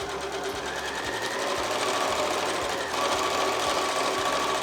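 Domestic sewing machine stitching down the lining sides of a fabric basket, a steady rapid mechanical whirr with rhythmic needle thumps, close and fairly quiet, briefly pausing and restarting.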